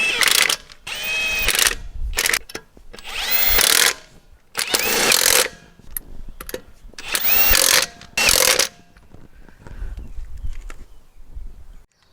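A power tool spins on the lug nuts of a Ford Raptor truck, loud close ratcheting bursts of a few seconds each, with quiet gaps and handling noise between them.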